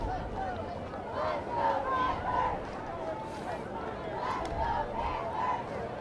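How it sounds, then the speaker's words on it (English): Spectators roar and chatter from the stands at a high school football game between Conroe and Caney Creek. The crowd noise is distant and steady, rising and falling in swells, with no clear individual voices. "You can hear that the Panther crowd trying to get involved, supporting their team."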